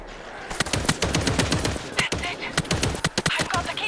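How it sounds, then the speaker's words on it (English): Machine gun turret in World War Z, firing rapid loud bursts of shots at close range, with short pauses between volleys. "Machine gun set!"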